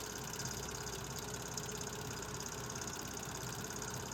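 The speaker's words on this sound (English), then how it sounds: "They brought the switch engine out to help the locomotive." An L&N switch engine locomotive idles on a trestle over Beargrass Creek in Louisville, Kentucky, a steady low diesel rumble and throb that holds at an even level throughout, with no voices present.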